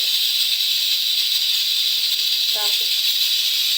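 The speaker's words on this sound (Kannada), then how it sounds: "ಈಗ ಮುದ್ದೆಗಿಟ್ಟಿರೋ ನೀರು ಕುದೀತಾ ಇದೆ" Water boils in a pan for ragi mudde, a steady close hiss throughout, with one short spoken word.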